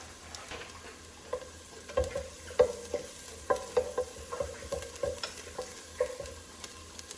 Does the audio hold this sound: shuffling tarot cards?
no